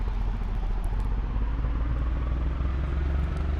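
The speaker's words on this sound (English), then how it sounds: "Listen to the engine." Car engine in the Gran Turismo 4 racing game, a low, steady, rumbling drone that stays loud and close throughout without a break, carrying a rough, clattering texture like a struggling motor turning slowly.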